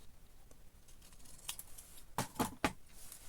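Scissors trim paper along drawn cut lines, giving a few quiet snips with a brief cluster of sharper cuts near the end.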